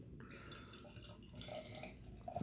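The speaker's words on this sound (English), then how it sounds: "Let's give it a pour." Beer, a HOMES Brewery Phosphor double dry-hopped IPA, pours from a can into a glass, a soft, faint glugging and trickling stream heard close and alone.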